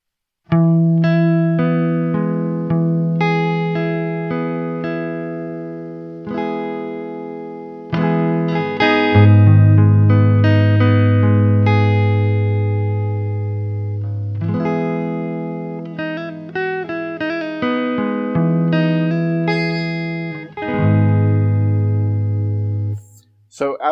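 Poly Beebo synthesizer tone modulated by a random LFO smoothed with a slew limiter, pitch gliding between levels instead of jumping, bright harmonic buzz rising and falling over several phrases, heard alone without talk.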